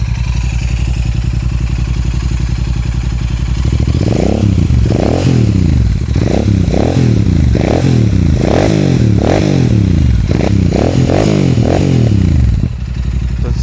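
A Royal Enfield 650 motorcycle fitted with a KP Racing exhaust idles with a deep, bassy thump, then revs up in a series of loud, rising and falling blips before settling, close and alone.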